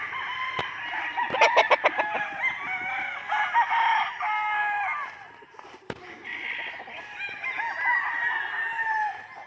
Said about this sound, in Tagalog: Napakaraming manok guys, pantari.